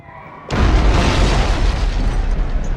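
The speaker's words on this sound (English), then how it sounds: "So several shots of an explosion and the public running away from the explosion" Movie-trailer explosion erupting after a brief quiet lead-in: a sudden loud boom followed by a sustained, heavy rumbling roar that stays dense and powerful to the end.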